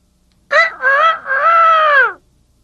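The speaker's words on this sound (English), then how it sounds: "That's the sound of a rooster." A single loud, close rooster crow, a drawn-out call broken into a short opening note and a long wavering tail, alone against silence.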